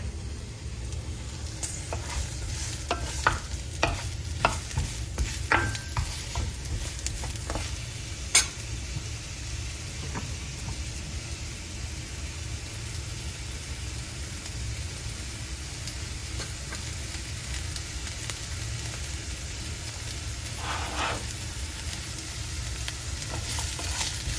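Chayote (sayote) cubes stir-fry with corned beef and soy sauce in a pan. A steady, moderate sizzle hisses throughout, with a few sharp utensil clicks and scrapes early on and no talk.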